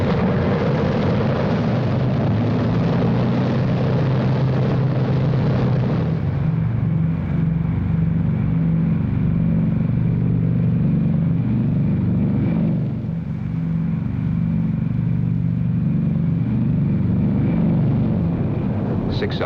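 Several B-29 Superfortress bombers roar steadily on takeoff in a 1945 wartime setting, with a loud, continuous low propeller-engine drone that holds throughout and shifts slightly in tone partway through.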